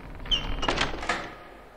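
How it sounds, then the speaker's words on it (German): A heavy door swings open in the Harry Potter and the Philosopher's Stone PlayStation game, a short creaking scrape with a couple of dull thuds, close and fairly loud, with no talk over it. "Das müsste die Tür sein"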